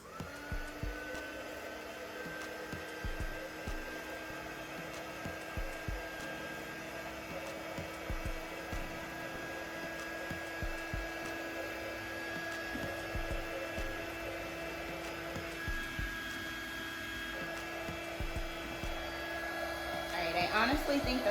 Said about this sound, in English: we are just going to use a heat gun and try to dry them a little bit faster